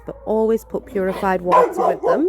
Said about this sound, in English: a barking session at another dog.